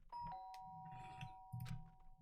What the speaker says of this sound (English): The sharp sound of the doorbell pierced my sleepy haze and pulled me back up to the real world.